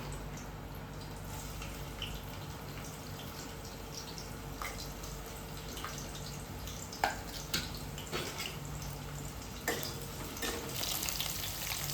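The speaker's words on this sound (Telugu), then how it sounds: "కొంచెం నూనె వేడిగానే ఆనియన్స్ వేయండి" Onions fry in hot oil for a bachelor-style bitter gourd curry, a soft steady sizzle with occasional small pops and clinks, fairly quiet and without speech.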